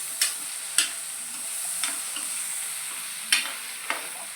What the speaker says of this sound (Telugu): ఉల్లిగడ్డలు అయితే ఇంకా కొంచెం మగ్గాలండి.